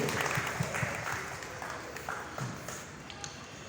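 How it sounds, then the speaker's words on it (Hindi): An audience at a Rotary awareness program in Ulhasnagar applauds to honour a visiting guest, steady, moderately quiet clapping that spreads through the room for several seconds with faint voices underneath. "जोरदार तालियों से उनका सम्मान करेंगे"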